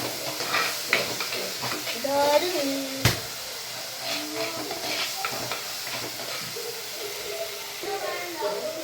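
Ginger and garlic frying in a pan for a spicy bitter gourd stir-fry sizzle steadily while a utensil stirs and scrapes through them, with a voice talking over the cooking.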